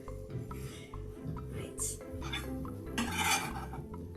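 Shallots and garlic are tipped into a pan and worked through oil, with clinking utensil taps, scraping and a light hiss at close range.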